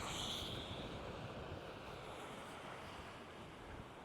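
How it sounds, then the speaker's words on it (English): Wind blows steadily outdoors, a broad, constant rush with microphone buffeting that stays loud throughout with no voices. "Windy, innit? Yeah, very."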